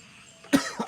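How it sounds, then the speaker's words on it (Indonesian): A single short cough rings out close by, followed by a softer second throat burst, over a quiet background. "Aduh batuk."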